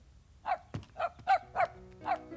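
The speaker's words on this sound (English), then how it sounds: "He's barking, Grandma." A cartoon puppy barks in a kitchen, giving five short, sharp, evenly spaced yaps that sound close and clear against a quiet background, with no talking.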